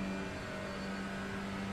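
Touring car engine in the iRacing sim at Road America, heard as a faint, steady, even drone held at one pitch throughout, with no speech.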